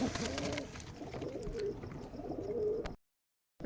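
Giribaz pigeons from Rajshahi coo softly in repeated low throaty calls, close by, and the sound then cuts off abruptly.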